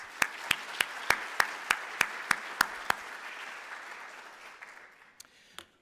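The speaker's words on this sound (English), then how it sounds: "they also deserve a big round of applause" A civic audience at a city address applauds. A soft wash of clapping carries a run of sharp, evenly spaced loud claps, then the sound thins and trails off with a few scattered claps.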